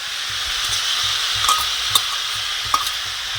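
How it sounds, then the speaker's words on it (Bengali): Spice paste fries with pumpkin in a pan, a loud continuous sizzle and hiss close by, broken by a few soft spatula scrapes and two or three sharp clicks, with no talking. "এইভাবে এটা অনেকক্ষণ কষিয়ে নেব"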